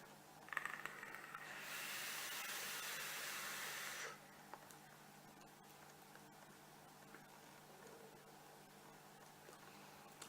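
Exhaled vapour from an e-cigarette using a strawberry milkshake e-liquid with milk, cream and a hint of vanilla: one soft steady breathy hiss lasting about two seconds after a brief inhale click, close to the microphone, then quiet room tone.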